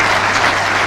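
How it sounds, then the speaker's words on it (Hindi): Audience clapping at a ceremony where a chief minister hands appointment letters to health officers, a dense, loud wash of applause filling the short moment without pause. "तालियां आप सबकी तरफ से"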